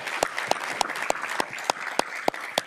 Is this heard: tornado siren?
no